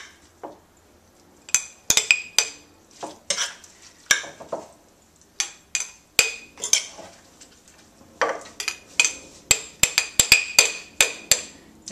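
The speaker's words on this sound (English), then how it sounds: "just put them right into the jar. Pack it down as tightly as you can." Grated vegetables are pressed tightly into a jar while making cultured vegetables, giving a run of sharp clinks, taps and scrapes in irregular bursts with brief pauses, close and fairly loud.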